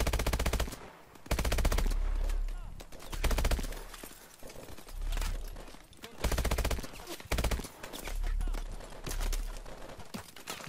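Enemy gunfire in Call of Duty: Advanced Warfare rattles in loud, rapid automatic bursts separated by short pauses, repeating across the stretch with no talking heard.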